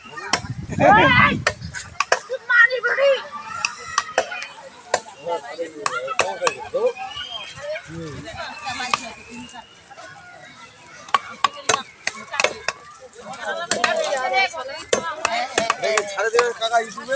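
Fish being chopped for a wedding feast, repeated sharp cleaver chops in an irregular rhythm, close and loud, with people talking throughout and a busy outdoor bustle behind.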